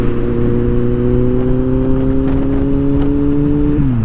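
Motorcycle cruising on a Miami highway, its engine holding a loud, steady drone close by, with the pitch dropping slightly near the end as the throttle eases.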